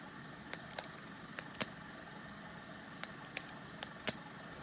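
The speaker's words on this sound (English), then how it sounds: "I like the ones that look like a regular pen, which you can click" A retractable pen is clicked repeatedly, giving sharp, close little snaps spaced irregularly over a quiet room hiss, some crisper than others, with no one speaking.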